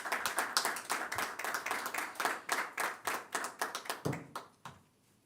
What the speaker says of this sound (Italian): adesso ovviamente accogliamo con un bel applauso anche